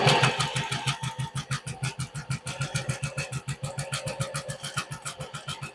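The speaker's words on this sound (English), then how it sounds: "then we're going to start sewing and let's see how this does" A sewing machine with a gathering presser foot stitches a gather, a close, rapid and steady mechanical chatter of needle strokes running evenly throughout.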